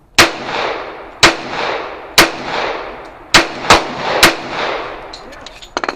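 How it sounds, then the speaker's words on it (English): Six loud, sharp gunshots from an M1911A1 .45 pistol, fired singly at an irregular pace, each crack followed by a short decaying echo, with no talking. "we'll take a look at some straight down the barrel shooting, and you know, check out that aim cam footage"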